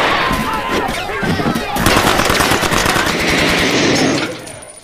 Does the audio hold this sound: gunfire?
yes